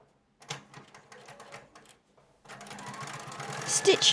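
Sewing machine stitching the curved pocket seams on a pair of jeans, a run of short rapid stitching bursts followed by a longer, louder continuous stretch of machine whirring, close by.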